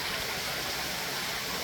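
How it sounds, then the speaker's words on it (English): A small waterfall spills at the bottom of Wildcat Wayside Upper Falls near a little cave, giving a steady, close rush of flowing water with no breaks. "See, there's a little waterfall."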